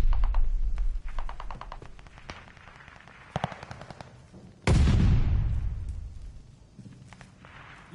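In a video game battle, mortar artillery fire lands as one loud, close booming blast that rolls off slowly, following rapid bursts of gunfire and clattering combat noise.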